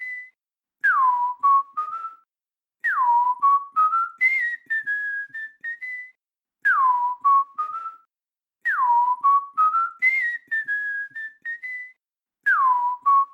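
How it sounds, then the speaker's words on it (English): A person whistles a simple melody alone in short repeated phrases, each a swooping falling note followed by a few steady pitched notes, clear and close with brief pauses between phrases. "The next icon is a whistling sound."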